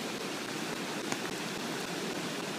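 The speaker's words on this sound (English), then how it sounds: "this is what is creating this river down the street" Floodwater from the 2013 Boulder flood rushes like a river down a residential street, a steady, dense broadband roar that stays loud and unbroken throughout with no voices.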